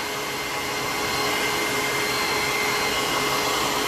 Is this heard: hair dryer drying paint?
yes